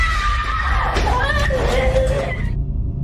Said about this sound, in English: the sound of a screaming child is heard from somewhere inside the house